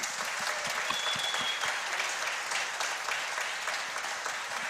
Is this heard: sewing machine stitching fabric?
no